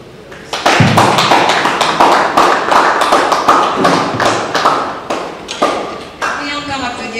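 A conference audience at a Congolese youth development talk claps loudly and steadily for several seconds after a speaker finishes, the sharp hand claps blending into dense applause that starts abruptly and holds.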